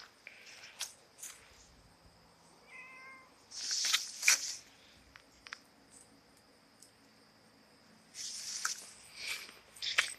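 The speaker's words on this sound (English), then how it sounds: "Yeah, that's one of my cats." An elderly 16-year-old cat meows faintly outdoors, a few short, soft calls spaced a few seconds apart against a quiet background with faint insect chirping.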